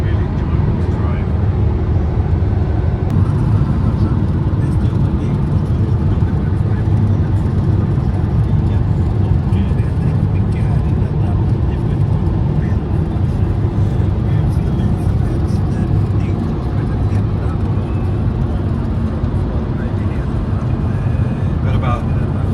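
A van driving along a lakeside road in Sweden, heard from inside as a steady, loud road and engine drone with tyre rumble that holds even throughout.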